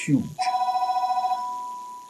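A telephone rings with a rapid trilling bell burst lasting about a second, loud and close, then fades. A brief voice-like sound comes just before the ring.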